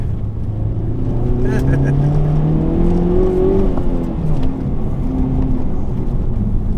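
A Honda Civic Type R engine drones loudly from inside the cabin on a partly unpaved road, its pitch climbing and then dropping as the driver shifts gears.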